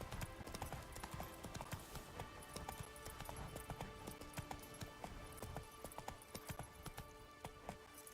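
A horse gallops in The Witcher 3: Wild Hunt on PS5, its rapid rhythmic hoofbeats continuing steadily throughout at low volume over a faint sustained tonal bed.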